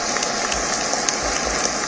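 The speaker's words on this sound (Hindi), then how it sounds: "तालियों का शोर तुलसी गौड़ा का परिचय पूरी दुनिया से करा रहा था।" Applause fills a Padma Shri award ceremony hall, a steady wash of many hands clapping heard from a distance, continuous and even with no voices over it.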